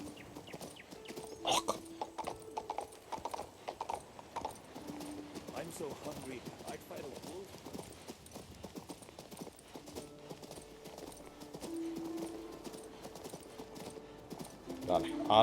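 Horse hooves clip-clop at a walking pace through a town in the video game King's Bounty II, a close, even rhythm of hard knocks continuing throughout beneath background music and occasional talk.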